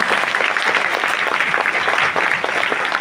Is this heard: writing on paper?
no